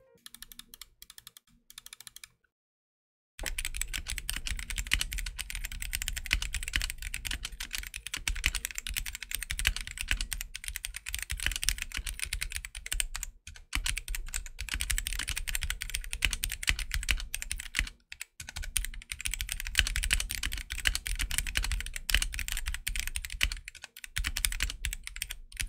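A Gamakay K61 mechanical keyboard with hot-swappable switches and an acrylic case, typed on in its stock state: steady, close clacking keystrokes with a slightly hollow, rattly tone run through the clip after a brief pause near the start.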